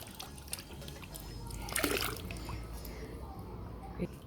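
Water with dissolved fertilizer is poured from a container onto pruned garden plants, a faint trickling and splashing stream with a small burst midway, while someone talks quietly.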